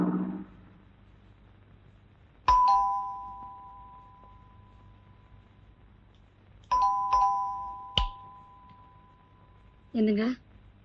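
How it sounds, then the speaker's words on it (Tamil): A doorbell rings in a two-tone chime at a home in a 1990 Tamil film, sounding clearly three times with long quiet gaps between, followed by a short voice. "கீழே யாரோ காலிங் பெல் அடிக்கிறாங்க"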